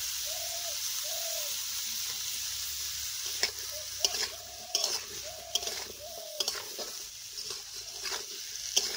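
Cauliflower, potato and carrot pieces frying in a pan, a constant sizzle broken by sharp scraping knocks of a spoon stirring, with a dove cooing softly in the background.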